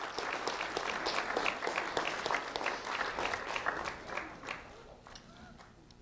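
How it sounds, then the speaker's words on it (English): An audience at a Lee County Sheriff's Office recognition event gives a round of applause, brisk clapping that is fairly quiet overall and gradually fades over several seconds. "a round of applause for Quinn Maricle, please."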